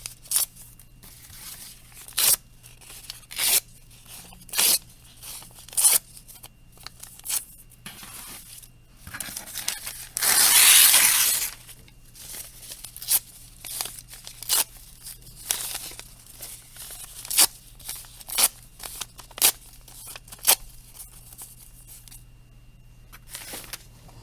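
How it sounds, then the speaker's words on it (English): Newspaper torn by hand into pieces for papier-mâché, close and clear: a series of short sharp rips at irregular intervals, one long loud tear near the middle, with soft paper rustling between and no talking. "So I'm gonna rip a bunch of newspaper."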